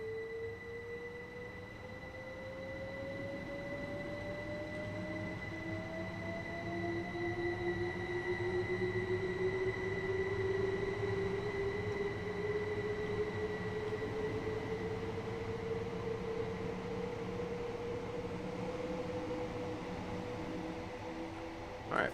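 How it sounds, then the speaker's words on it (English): A train passes by in the Train Sim World 2020 game on the East Coastway line near Eastbourne, a steady rumble with a slowly rising whine and horn-like tones that hold at a moderate level for over twenty seconds. "that was a nice, beautiful train by, if I do say so myself."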